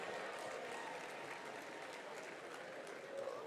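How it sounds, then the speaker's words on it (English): An audience at the launch of the National Apprenticeship Programme applauds for the president, a steady wash of many hands clapping at a moderate distance, faint and sustained throughout. "a round of applause for the working president"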